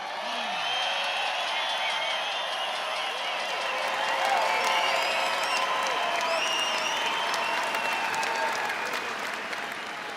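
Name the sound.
rally crowd applauding veterans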